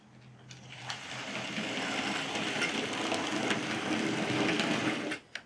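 Hornby model railway locomotive rolling along the track, a soft steady whirring hum with faint rhythmic clicking that builds and holds for several seconds, then stops abruptly.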